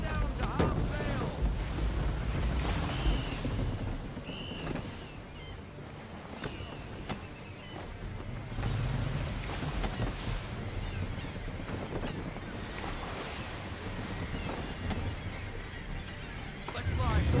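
Sailing ship under full sail in Assassin's Creed 3, steady roar of wind and rushing waves with creaking, bursts of crew voices shouting over the continuous ocean noise.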